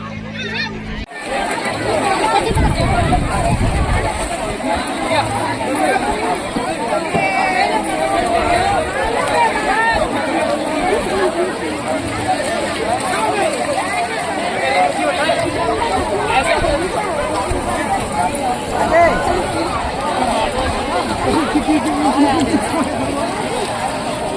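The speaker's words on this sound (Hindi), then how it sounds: "तो आप देखो कितनी भीड़ दिख रही है ना, ये देखो सब नहा धो रहे हैं" Large crowd bathing at the Maha Kumbh riverbank, a dense continuous hubbub of many voices and splashing activity, steady and loud throughout, with someone talking over the crowd noise.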